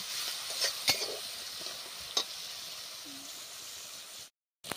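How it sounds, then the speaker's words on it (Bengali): Freshwater snails frying in a wok until reddish, a steady near hiss and crackle broken by a few sharp utensil clicks, ending abruptly in silence. "ভালোভাবে গুগলিগুলো ভাজা হয়ে গেছে, কি সুন্দর লাল লাল হয়ে"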